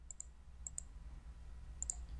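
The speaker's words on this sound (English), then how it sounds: "Click on the option." Faint computer mouse clicks while selecting an option in accounting software: a few quick paired clicks, near and isolated against a quiet room hum.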